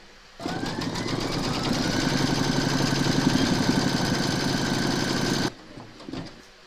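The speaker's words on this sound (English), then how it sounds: "Load your neutral thread colour back into your machine and then stitch round number 13." A computerised embroidery machine stitches an in-the-hoop notebook cover with gold thread, giving a steady, fast mechanical whir with rhythmic needle chatter for about five seconds before stopping.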